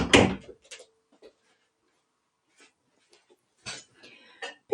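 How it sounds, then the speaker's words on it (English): An interior door is pushed shut with a close, heavy thud, then small rattles and clicks follow after a pause, with a second knock of wood as it settles; the room is otherwise quiet. "I've got an annoying door that I'm just going to have to shut."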